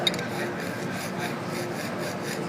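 Continuous fine rasping of a Forstner bit stroked on a Trend diamond hone without pressure, steady back-and-forth scraping with faint rhythmic pulses, close up and without talking.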